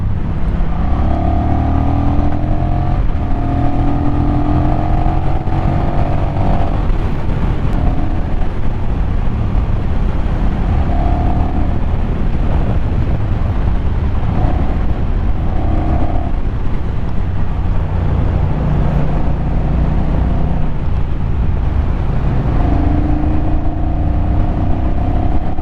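A Honda CMX1100 parallel-twin motorcycle engine accelerating, a loud, steady low engine drone with rising and falling pitch sweeps as it revs through gears, heard continuously with wind noise and no speech.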